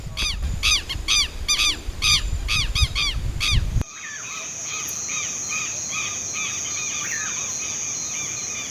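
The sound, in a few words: southern lapwing calling at night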